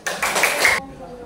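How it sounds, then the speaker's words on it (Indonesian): Students in a classroom break into brief applause, a burst of close, fairly loud clapping lasting under a second before cutting off into quiet room tone. "Beri tepuk tangan dong"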